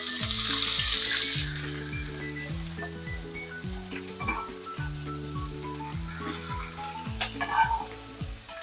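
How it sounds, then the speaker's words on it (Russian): Onion frying in two tablespoons of oil in a pan gives a steady, soft sizzle with crackling pops, a little louder at the start, heard alone without any talking. "И давайте отправим наш лучок греться до прозрачности, до золотистой корочки."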